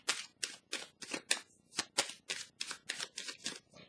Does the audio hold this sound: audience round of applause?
no